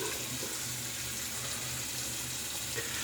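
Water from a tap runs in a steady, even hiss while someone rinses off between passes of a shave, close and continuous with no voices.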